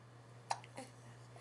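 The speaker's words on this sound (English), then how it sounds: "Hiccup." A small child's hiccup, one short sharp catch at a quiet indoor moment, followed by a softer breathy sound, over a steady low electrical hum.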